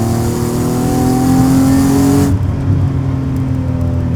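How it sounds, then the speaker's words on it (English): A Hyundai Genesis 3.8 engine revs hard under throttle, a loud rising mechanical growl with strong harmonic tones that cuts off sharply partway through, leaving a lower steady idle-like drone. "You just hit the throttle."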